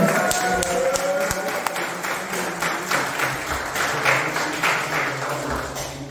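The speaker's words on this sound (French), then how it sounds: "On l'applaudit très bien, s'il vous plaît." Steady audience applause at a powerlifting award ceremony, many hands clapping densely and fairly loud for several seconds without pause.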